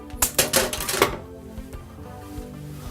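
Water filter tubing for an electrolyzed water purifier being cut: a quick run of sharp clicks and snips close by, followed by a few faint scattered taps.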